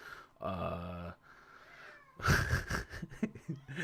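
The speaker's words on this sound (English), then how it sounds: "The cat's going nuts." A house cat left outside a closed bathroom door gives a long, drawn-out yowl, then a louder burst of ragged, strained cries after a short pause, close by with no talking.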